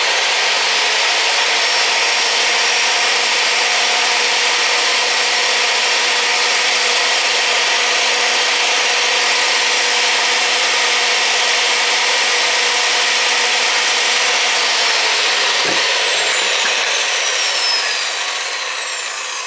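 A pipe threader grinds steadily on a pipe end during a residential oil tank replacement, a loud, continuous rasping drone with a sustained hum that cuts off abruptly near the end.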